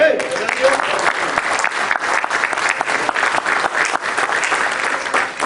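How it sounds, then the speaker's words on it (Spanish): A church congregation applauds during a sermon, a steady, full wash of clapping across the hall with voices faintly mixed underneath. "Denle un aplauso a Dios."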